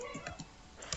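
Several quick clicks of typing on a computer keyboard, entering MySQL commands in a command prompt, tap out in an uneven rhythm, close and fairly quiet.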